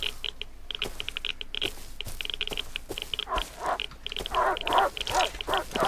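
A dog in the survival video game Rust gives short yips and whimpers over a steady background. There are repeated bursts, louder toward the end, with no talking.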